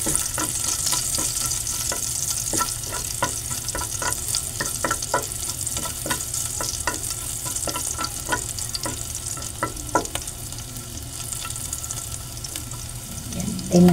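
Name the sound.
garlic sautéing in frying oil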